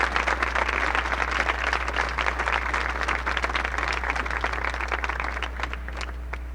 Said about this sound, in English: Classmates, let's applaud for our faculty.